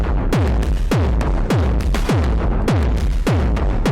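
Heavily distorted kick drums thump in a steady, driving rhythm through an Endorphin.es Ghost module, each hit swelling back in with a pumping, almost reversed feel; loud and continuous.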